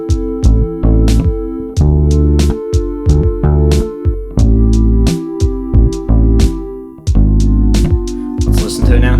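A bass plays a groovy rhythm of quarter notes with a pair of eighth notes on beat three, locked to a steady drum beat. The low notes are punchy and clipped, with loud, close kick and cymbal hits and no talking.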